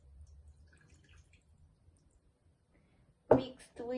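A glass of water is poured onto a baking tray of potatoes as a bacon-wrapped stuffed chicken breast is prepared. After near silence there is a short, close splash and trickle near the end.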